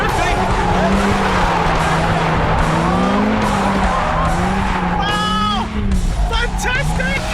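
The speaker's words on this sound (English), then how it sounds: "Oh, braking hard now! There's a drift around, here he goes! Whoa! Oh, we're drifting!" A race car drifts hard at the Silverstone Speedmachines Festival 2018, engine howling with squealing, skidding tires and rising and falling revs, loud and close from inside or near the car, while an excited person talks and exclaims throughout.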